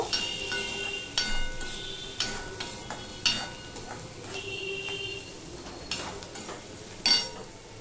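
Chilli chicken turned over in a pan with a spatula, giving a steady run of scraping, clinking strokes at close range over a light background sizzle, with no talking.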